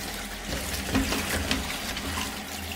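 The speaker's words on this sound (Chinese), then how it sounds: "先把香菜洗一下" Tap water running steadily over coriander as it is rinsed in a home kitchen, a continuous splashing flow with slight surges, close and moderately loud.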